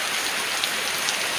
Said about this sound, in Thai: พูดแข่งกับสายฝนค่ะ